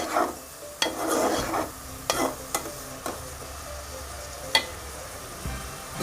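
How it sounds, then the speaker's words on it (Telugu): Onions and green chillies fry in a pan for a village-style fish curry with raw mango, a soft sizzle punctuated by a few sharp stirring scrapes and taps, close and moderately quiet. "మనం తరుపుకున్న ఉల్లిపాయలు పచ్చిమిర్చి ఇవన్నీ వేసుకొని వేయించుకోవాలి"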